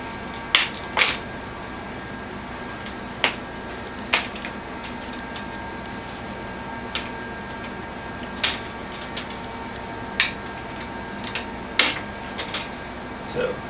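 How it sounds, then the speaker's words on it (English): A plastic bezel cover being pried off an HP 15-g070nr laptop screen: a scattered series of sharp, crisp clicks and snaps as the clips release, separated by quiet pauses. "without too much effort, the bezel cover should come off"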